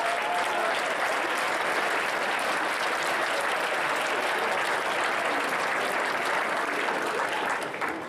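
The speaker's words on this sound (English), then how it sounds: "Let's give these people a huge round of applause" A large audience at an Arizona student hackathon opening ceremony bursts into sustained, dense applause that holds steady and loud for about eight seconds before tapering slightly at the end.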